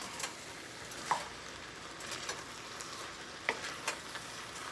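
Butter melts and sizzles in a hot pan for Cajun crawfish corn maque choux, a faint steady frying hiss with a few scattered pops and light taps.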